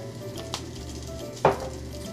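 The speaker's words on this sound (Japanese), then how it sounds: "ちょっとフライパンに油をひいて焼いていきますよ。" Sweet potatoes sizzle steadily in an oiled frying pan, a close, continuous fry with a sharp stir or scrape of the pan partway through.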